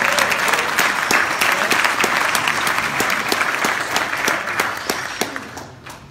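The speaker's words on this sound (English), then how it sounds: "Let's give everybody a big round of applause." Audience applause at a business rally, a loud, dense crowd clapping steadily with sharper individual claps standing out, gradually thinning and fading toward the end.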